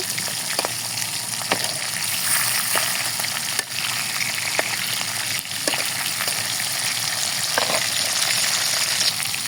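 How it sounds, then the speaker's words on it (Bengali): Pieces of rohu fish sizzle steadily in hot oil in a pan, a dense, even crackle close by that runs throughout with occasional small pops and clicks and no talking. "মাছগুলো এক সুলটিয়ে উল্টিয়ে নিব ওই পাশ ভাজা হয়ে গেছে"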